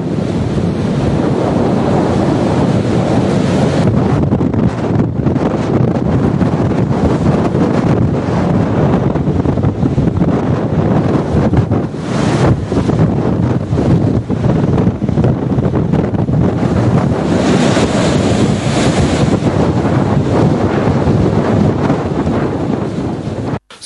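Storm winds and surf from Hurricane Sandy striking the US East Coast, a steady loud roar of gusting wind buffeting the microphone over crashing waves, continuous for the whole stretch with no voices.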